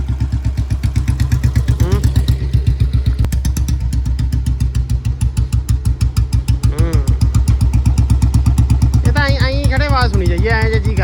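An old Bullet motorcycle, left standing for six years, runs after being started, its loud close single-cylinder thump beating in a steady fast rhythm with occasional revs, while people talk over it.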